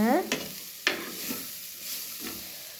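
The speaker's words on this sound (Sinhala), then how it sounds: "ඒක මෙහෙම කවලම් කරගෙන" Mackerel and potato mixture being stirred in a hot pan on a gas stove, a few scraping strokes over a steady soft sizzle, close up, and no one speaking.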